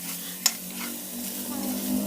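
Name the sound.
pork frying in its own fat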